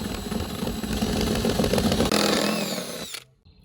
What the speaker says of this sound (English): we're gonna drill this to 3/4